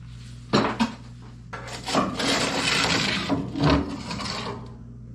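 Ash and leftover coals scraped and scooped out of a woodstove into a metal bucket: close scraping, rasping and clinking bursts, with a few sharp metallic knocks among steady gritty rubbing.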